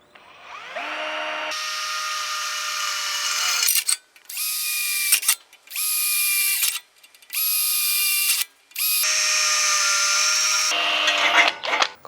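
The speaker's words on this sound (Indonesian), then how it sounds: "sebelumnya kita bor dulu untuk bajaringan ini" A cordless drill bores a series of pilot holes into lightweight steel (baja ringan) framing using 3.5 mm and 4.5 mm bits, whining loud and close in several bursts of a few seconds each, separated by short pauses.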